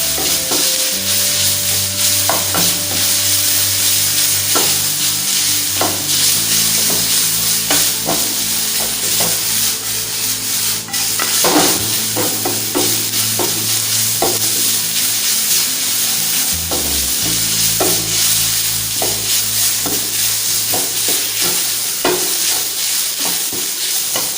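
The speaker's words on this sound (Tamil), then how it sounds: "டர்மரிக்கோடு சாட்டே பண்ணுவேன்." Turmeric sautéing in a pan for mango rice: a steady, close, loud sizzle with stirring scrapes and clinks, alongside a low constant hum and no voices.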